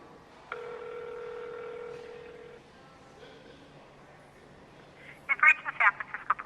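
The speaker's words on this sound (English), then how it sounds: "That's a TTY, I tell you, for deaf users." Tones on a San Francisco Police Department phone line, a TTY signal for deaf callers: a long steady electronic tone with harmonics for about two seconds, then softer tones and a burst of short chirping beeps near the end.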